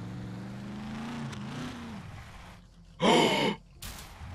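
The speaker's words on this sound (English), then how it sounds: "Did you hear that audible gasp?" A sharp audible gasp breaks the quiet in a SCUM single-player session, a brief loud breathy burst following a fading engine-like hum, then a short hiss after it.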